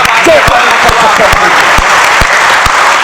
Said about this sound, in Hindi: एक बार तालियां उठाइए, ये पता ना लगे कि आप कम लोग हैं।